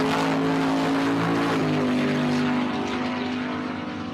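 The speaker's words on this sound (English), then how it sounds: "his black Nova in the burnout box" A black Chevrolet Nova drag car does a burnout in the burnout box at Empire Dragway, its engine roaring loud and steady at high revs with a sustained droning tone that eases slightly toward the end.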